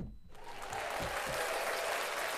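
Applause on a sports talk show, a faint wash of clapping that starts after a brief pause and holds at an even level to the end, fairly distant and alone.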